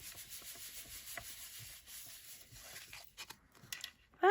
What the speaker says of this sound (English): Turn it over and give it a rub.